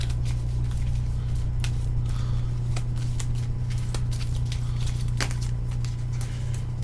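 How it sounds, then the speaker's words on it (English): Cards for the board game Cthulhu: Death May Die being shuffled, a run of soft riffling clicks and flutters over a steady low hum, with no talking. "I forgot to shuffle it."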